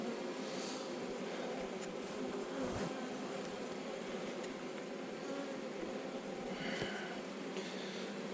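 Honeybees buzz inside a hive, a dense continuous drone of many wings heard close up and fairly loud, with faint knocks and shifts now and then.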